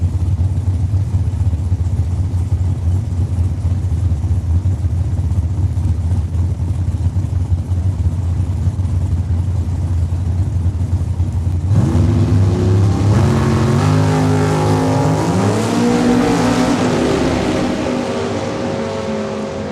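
Drag racing cars, including a 1967 Camaro, at Saskatchewan International Raceway in Saskatoon roar steadily, then a second loud engine joins midway with rising, revving harmonics as the cars accelerate, close and powerful throughout.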